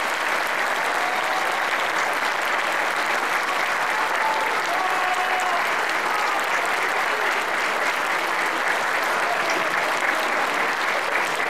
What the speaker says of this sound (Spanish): Nuevamente un fuerte aplauso para que ustedes puedan recibir su título de universidad